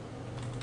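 Typing on a computer keyboard while searching for Task Scheduler on a PC, a quick run of soft keystrokes heard up close and alone for under a second.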